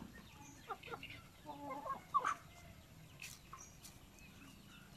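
Native chickens clucking faintly around a farmyard, soft intermittent calls over a low background murmur, with scattered brief chirps.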